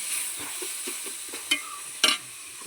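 Onions and tomatoes sauté in a pan for coconut rice and chicken curry, with a steady close sizzle under a series of soft stirring scrapes and two sharper clinks of the spoon against the pan.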